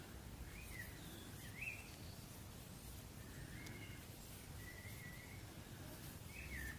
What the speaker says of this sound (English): Gosh, noisy birds.